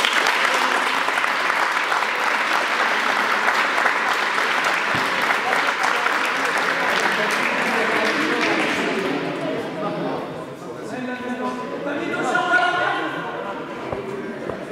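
Applause from a crowd at a roller hockey camp gathering, steady and loud for about ten seconds before thinning, with voices and chatter rising as the clapping fades.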